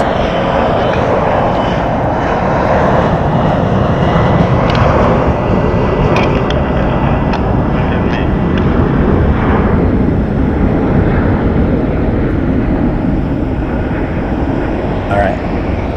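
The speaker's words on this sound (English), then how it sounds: "Taking off now, we're going to have Mesa Airlines heading over to Houston." A Mesa Airlines plane takes off from Phoenix Sky Harbor Airport, a loud, sustained, rumbling jet roar filling the whole stretch with little change in level.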